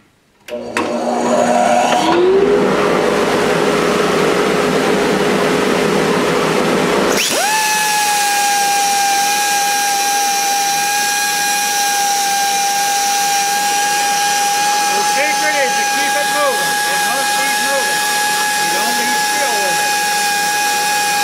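A power sander works wood on a candle holder while a dust collector runs, giving a loud steady whine that holds for most of the clip after a brief startup.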